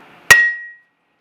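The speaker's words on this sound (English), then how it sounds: "we take a big hammer and we hit the anvil really," A big hammer strikes a Vevor budget anvil once, a sharp, loud metallic clang with a bright ringing tone that decays over about half a second into silence.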